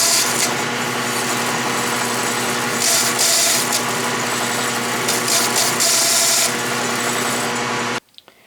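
Atlas lathe running in back gear while a four-jaw chuck is opened and closed, a steady loud motor hum and gear whine with scraping rises, ending abruptly near the end.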